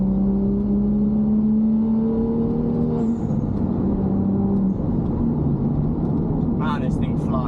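A 430hp BMW M235i accelerates along a road, its engine a steady low drone with a rising tone as it pulls, heard from inside the cabin throughout with a short brighter burst near the end.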